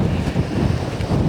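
Strong wind at Portchester Castle buffets the microphone with a steady, low roaring rumble, loud and continuous throughout.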